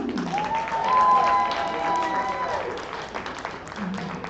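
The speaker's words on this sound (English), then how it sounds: "welcome her with a great round of applause for Miss Johnny" An audience at a music and fashion showcase greets performer Miss Johnny with a warm round of applause and light cheering, swelling then tapering, while a voice speaks over it.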